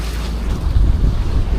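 A fishing boat's engine runs with a steady low rumble close by, heading out onto the Pacific, with wind and water noise layered over the drone.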